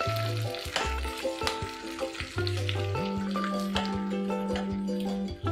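Tempeh being stirred gently into a simmering Kerala mango curry, a soft steady sizzle with light scrapes and squishes, close but fairly quiet, under sustained background music tones.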